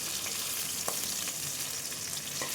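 Fish head frying in a pan, a steady close crackling sizzle with a few brief stirring clicks, continuing without pause and with no voices.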